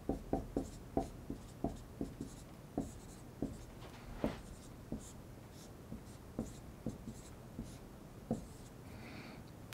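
Pen writing on a surface while sketching organic chemistry structures, a steady run of short, distinct tapping strokes and scratches at close range, with no one speaking over it.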